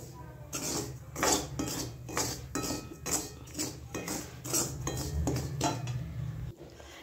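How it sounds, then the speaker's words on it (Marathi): Semolina is dry-roasted for upma while a spoon scrapes and stirs it around a metal pan in rhythmic, close, fairly loud strokes that continue through the whole stretch. "हे बघा, 5 मिनिटांमध्ये रवा भाजून होतोय आपला"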